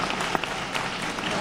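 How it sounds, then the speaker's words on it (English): Audience applause at a student poetry awards reading, a steady patter of many hands clapping with a few sharper individual claps standing out. "Let's give him a big round of applause."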